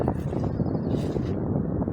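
Wind buffets a microphone outdoors in Bonn, a constant loud, low roaring rumble with gusty swells and no voices.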